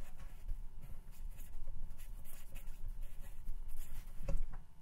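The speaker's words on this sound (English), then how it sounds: "I'm just going to erase this then." Erasing marker writing on a whiteboard during a math lesson, a steady soft rubbing scrape that continues for several seconds with a brief louder bump near the end.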